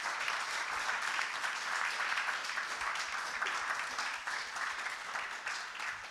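An audience at a poetry slam applauds in a steady, dense wash of clapping, even and continuous throughout, moderately distant and fairly quiet.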